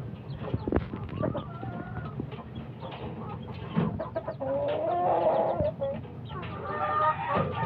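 Young gamefowl chickens cluck and chirp close by in a farmyard, with scattered calls and a rising squawk, busy and lively.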